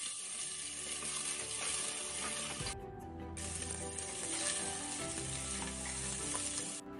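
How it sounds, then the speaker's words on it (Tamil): Finely chopped shallots sizzle loudly in hot oil in a cooker, a continuous close frying hiss broken briefly by stirring, with no talking. "பொடி பொடியா நறுக்குன சின்ன வெங்காயம் சேர்த்துட்டு நல்லா வதக்கி விடுங்க."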